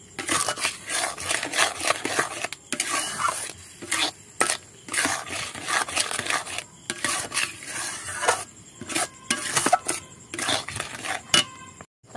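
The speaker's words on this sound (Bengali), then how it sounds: "চিনিটা দিয়ে একটু নেড়ে চেড়ে নেব।" Palm pulp being stirred with sugar in a pan, with steady scraping and clinking of a utensil against the metal in repeated strokes, close and fairly loud, no talking.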